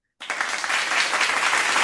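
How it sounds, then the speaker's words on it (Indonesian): Audience applause for a closing remark at an Indonesian public works gathering breaks out suddenly after a brief silence, then holds as a steady, dense wash of many hands clapping near the microphone. "mari kita tepuk tangan buat semuanya"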